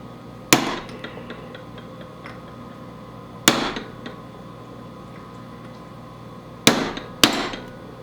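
Four sharp metallic hammer strikes on a punch, staking the nut on a Honda AWD transmission with straight-cut gears; the blows are spaced unevenly, and the last two follow close together, each ringing briefly in a quiet workshop.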